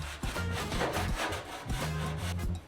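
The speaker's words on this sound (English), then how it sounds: "Once everything was dry, I attempted some more block sanding," A sanding block works dried body filler on the firewall of a Chevrolet Sonoma S10 minitruck, giving close, rhythmic back-and-forth rasping strokes that repeat steadily.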